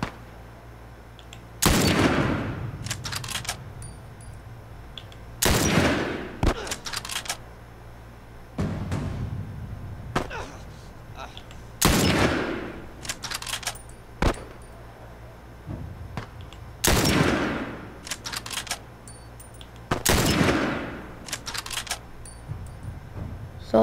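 Rifle fire during a sniper section of The Last of Us: about six loud, booming single shots at intervals of several seconds, each ringing out with a long decaying echo and followed by faint mechanical clicks.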